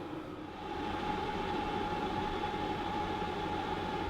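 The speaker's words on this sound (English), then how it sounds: "Okay, now we have the Wave 2 on full max. And so this should be about as loud as it'll get." EcoFlow Wave 2 portable air conditioner running at full max: a steady, fairly loud whooshing fan hum with a constant tonal whine, rising slightly at the start and then holding even.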